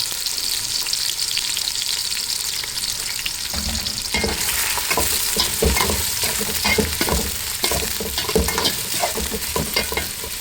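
Green chillies frying in a pot for biryani, a loud continuous sizzle with busy scraping stir strokes growing denser midway, close up and without talk.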